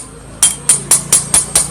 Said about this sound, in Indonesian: Saya pakai paku buat melepasnya, ini getok dari dalam biar copot.